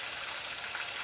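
Turkey thighs fry and brown skin-side down in a hot pan, giving a steady, dense sizzle that stays even and continuous throughout, with no talking over it.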